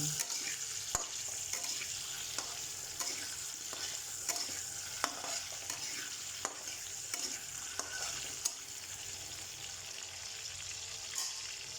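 Chicken curry ingredients fry quietly in a pan, giving a soft, steady sizzle broken by sharp, regular ticks and scrapes of stirring, heard close with no voices.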